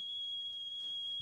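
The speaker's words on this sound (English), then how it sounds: "The whistle coming from the tea room near the retiree estate shot through the darkness of the night." A signal whistle blown at night from a tea room near a retiree estate gives one steady, thin, high tone that holds unbroken for the full moment, faint and alone.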